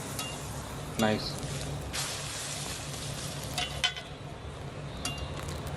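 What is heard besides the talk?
toast roasting in butter on a griddle, Korean street food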